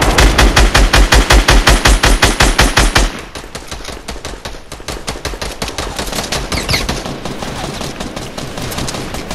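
Rapid automatic gunfire in a Fortnite Battle Royale match: a loud, fast, evenly spaced burst of shots up close, then a denser stream of quieter shots continuing without a break.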